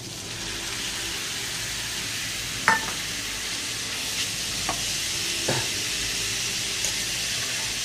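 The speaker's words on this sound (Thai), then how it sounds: "ทีนี้ก็ใส่หมูที่ลวนไว้" Blanched pork belly is stir-fried in a hot pan with a continuous loud sizzle and hiss, broken by a few clanks of a spatula against the metal.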